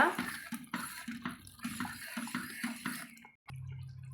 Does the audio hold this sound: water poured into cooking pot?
yes